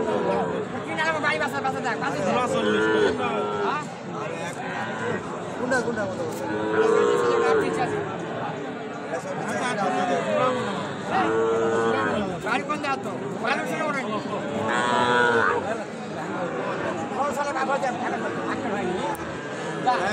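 Bulls and heifer calves at a new cattle market in Joypurhat moo several times at moderate distance amid a constant hubbub of crowd chatter and nearby talking.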